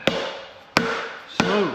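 A hammer taps an engine seal's inner ring into place on a Ford 3.5 EcoBoost engine, giving three sharp, close metallic strikes spaced about two-thirds of a second apart, each ringing out briefly.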